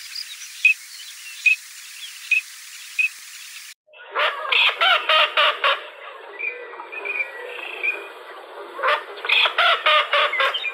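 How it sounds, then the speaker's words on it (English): A female duck gives repeated short quacks that are nasal and higher pitched than a mallard's, in rapid bursts of several notes, fairly close, with faint bird calls in the background before them. "here I'll also play the quacks of a female so you can kind of hear how it's a little bit more nasal, higher pitched than a mallard"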